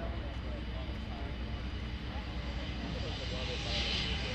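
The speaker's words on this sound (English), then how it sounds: "they're going to taxi all the way down to the end of the runway" Aerial firefighting aircraft taxiing on the runway at EAA AirVenture 2019 make a steady, droning engine roar at moderate distance, with a whine that rises slightly near the end and an announcer talking over it.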